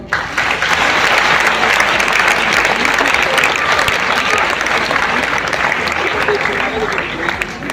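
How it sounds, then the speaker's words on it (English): Students at a school gathering clap loudly for the newly appointed head girl, a dense, steady burst of applause filling the whole stretch with voices mixed in. "Clap for the Kritika Yadav"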